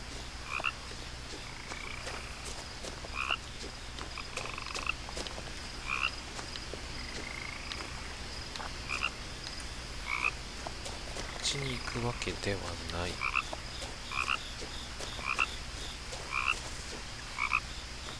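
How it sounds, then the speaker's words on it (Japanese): Repeated frog croaks in What Remains of Edith Finch ring out at a steady, regular pace against a constant outdoor night-ambience bed, with a voice talking briefly partway through. "カエルがどっかにいる。"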